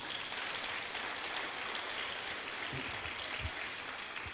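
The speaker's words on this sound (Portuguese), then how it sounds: "Quem entendeu essa palavra aí, dá um aplauso ao Senhor." Soft, steady applause from a church congregation during a worship service, somewhat distant and even, with a few low thumps near the end.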